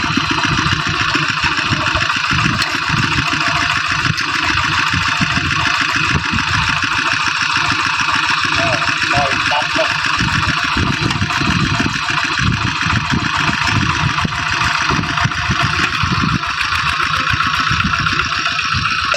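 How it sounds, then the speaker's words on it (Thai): A Thai-made walk-behind tractor engine idles in a farm field, a loud, steady rapid chugging that holds constant for about twenty seconds with no talk. "รถไถไทยเรา"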